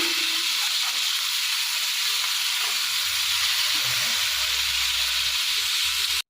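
Pangas fish fries in hot oil in a home kitchen wok, a steady broadband sizzle and hiss running without a break, with faint low thumps of handling near the end.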